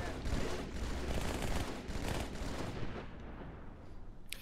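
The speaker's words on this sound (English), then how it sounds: "Sometimes there's a situation begging for a grenade and we just both throw it at the same time." Grenade blasts in a Halo 2 co-op campaign battle: dense, rumbling bursts of explosions and weapon fire rolling together for several seconds, then thinning out toward the end.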